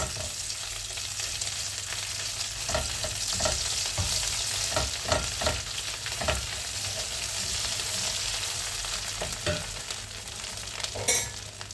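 A spoonful of tomato paste frying in oil over low heat for a chicken bulgur pilaf, giving a continuous soft sizzle with scattered spoon scrapes and stirring clicks, close and unbroken by speech.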